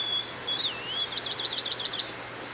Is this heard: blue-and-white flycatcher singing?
yes